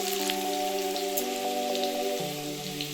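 Whole spices drop into hot oil in a pan of fried potatoes for a vegetarian cauliflower and potato dish, giving a steady crackling sizzle under soft background music.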